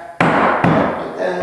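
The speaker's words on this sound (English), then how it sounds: "So give it a couple little bangs." Two firm thuds from a rubber mallet knocking a hardwood floor board into place land close together and loud, with a smaller knock following.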